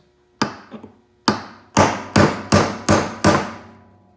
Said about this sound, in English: I pick a nail set that is appropriately sized for the nail that I'm using